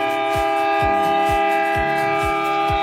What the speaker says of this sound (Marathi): अंमळनेर प्लॅटफॉर्मवरून नगरकडे रवाना होत आहे.